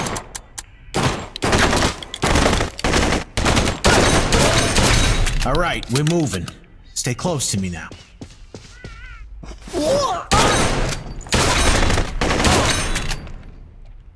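Rapid bursts of gunfire in the shooter game Blue Estate crackle in repeated loud volleys, with short pauses between them, while characters talk over the shooting.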